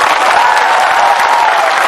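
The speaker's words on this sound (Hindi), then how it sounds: "ताली दीजिए इनको।" Steady applause from a crowd at a Tipra Motha political rally in Tripura, welcoming party leaders, dense continuous clapping without pause.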